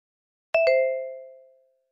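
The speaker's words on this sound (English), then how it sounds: "Temple bells let people know the time by the position of the sun." A temple bell struck twice in quick succession, each clear metallic ding blooming into a long, pure ringing tone that fades slowly over about a second, heard alone in silence.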